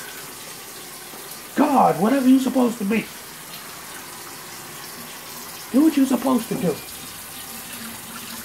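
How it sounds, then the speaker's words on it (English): Hot water runs from a kitchen tap as a steady, moderate hiss that continues throughout, while someone talks over it in two short bursts. "I turn the hot water on and let it do its thing"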